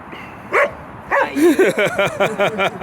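Dogs bark and yip excitedly, with a few scattered barks at first and then a quick run of repeated, close, fairly loud barks.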